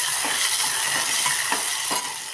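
Potatoes with onion and chilli fry in a pan for jowar poha, a steady close sizzle broken by a few soft stirring scrapes.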